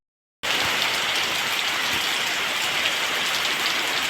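Steady rain falls close by in a rural Karnataka setting, a dense, even hiss of drops on surfaces that starts abruptly and continues unbroken, with no talking.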